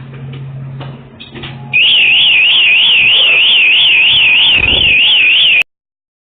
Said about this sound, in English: Alarm is now activated.